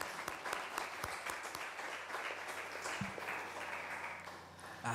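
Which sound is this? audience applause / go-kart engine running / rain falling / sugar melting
audience applause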